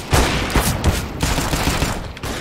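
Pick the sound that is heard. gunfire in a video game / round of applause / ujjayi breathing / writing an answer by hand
gunfire in a video game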